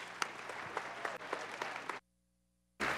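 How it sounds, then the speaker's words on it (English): A church audience claps loudly for a speaker, dense applause that cuts off abruptly into silence, then resumes briefly at the end. "I want you to clap really loud for Dr."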